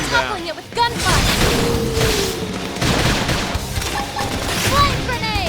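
Rapid gunfire and booming explosions in the Xenoblade Chronicles X: Definitive Edition battle, dense bursts of shots and blasts layered with game music, while characters shout over the chaotic combat.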